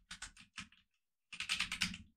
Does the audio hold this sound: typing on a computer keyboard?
yes